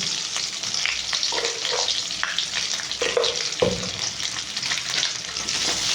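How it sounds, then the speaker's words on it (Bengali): Steady loud sizzling of spices frying in oil, with brief scraping stirs over the continuous frying hiss. "এটা একটু ভাজা ভাজা হোক পরে মশলা দেবো"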